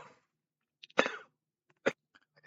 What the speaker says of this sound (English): I was having a horrible coughing fit.